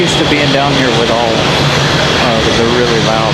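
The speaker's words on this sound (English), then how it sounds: "the really loud planes." A loud jet airliner roars steadily close by at Raleigh-Durham International Airport, its broadband engine noise filling the whole stretch with a whining tone on top, while someone talks over it.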